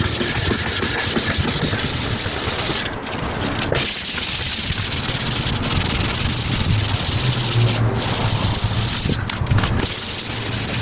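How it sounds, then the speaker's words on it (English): A drill-driven sanding pad with wet and dry paper works over a car headlight, producing a loud, continuous abrasive rubbing hiss with brief pauses and a steady motor hum beneath. "Need a whirly drill."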